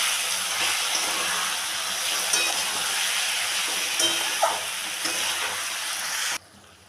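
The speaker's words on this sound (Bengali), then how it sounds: "একটু লঙ্কার গুঁড়ো, ধনের গুঁড়ো, দেবো নুন, ভালো করে কষিয়ে নেব।" Chicken sautéing in a pan with chili powder, coriander powder and salt gives a steady, close frying sizzle and hiss with light stirring scrapes, cutting off abruptly near the end.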